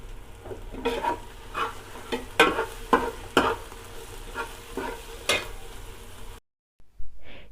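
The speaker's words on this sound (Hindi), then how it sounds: "जिंजर गार्लिक पेस्ट अच्छे से भुन गया है।" Ginger garlic paste frying with golden onions in a pan, close sizzling broken by a series of irregular stirring scrapes, then a brief silence before one more stroke.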